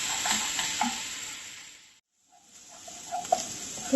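Grated coconut sautéing in a pan for Kerala kalan, a soft steady sizzle with scraping stirring strokes, close by, dropping briefly to near silence midway before the frying and stirring resume.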